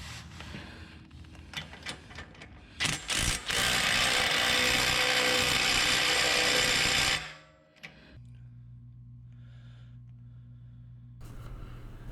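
A power tool or ratchet tightens bolts on a Teraflex Falcon Nexus EF 2.2 steering stabilizer bracket: a few short clicking bursts, then a loud steady whir for about four seconds, followed by a quieter hum and a final burst.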